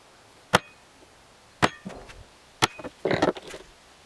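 An awl is tapped into a wooden desk panel to start a screw hole: three sharp, isolated knocks spaced about a second apart, close and fairly loud, followed by a short burst of softer scraping and handling clatter.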